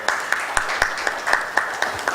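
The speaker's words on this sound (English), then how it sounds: "I think it deserves a claps from the audience." An audience at a governance conference applauds, a broad wash of clapping with a strong rhythmic beat of synchronized claps roughly every quarter second, steady and fairly loud.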